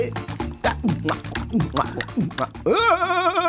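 A man imitates a donkey's bray in a rural village scene, a loud rising and falling vocal honk repeated in bursts and ending in a long, wavering held note.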